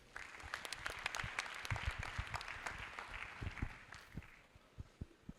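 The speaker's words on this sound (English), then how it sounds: "Please, another round of applause for the acting vice chancellor" Faint, scattered applause from the audience at a University of Abuja induction ceremony, with a few louder individual claps standing out and thinning near the end.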